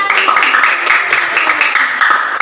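Children in a classroom break into a brief, dense round of hand clapping, close and fairly loud, the quick overlapping claps running for a couple of seconds.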